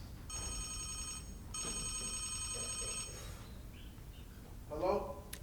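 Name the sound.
telephone ringing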